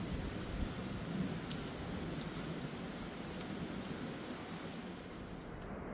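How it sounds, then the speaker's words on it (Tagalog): Rain falls steadily at Barr Lake State Park in Colorado, a continuous soft hiss with a few scattered drop taps and no one speaking. "So, hindi na yata titigil ang ulan."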